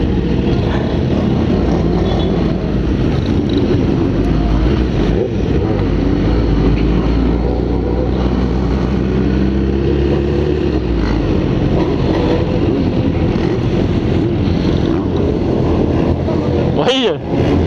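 Loud, continuous roar of many motorcycle engines passing close by on a night group ride, rising and falling together, with voices faintly mixed into the din.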